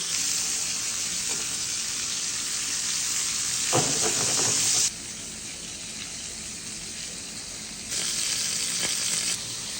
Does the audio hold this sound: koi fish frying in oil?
yes